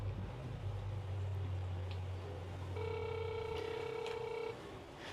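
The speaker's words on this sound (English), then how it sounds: "I'm gonna press the doorbell" A smart video doorbell rings with a steady, tonal electronic chime lasting a couple of seconds over a low background hum.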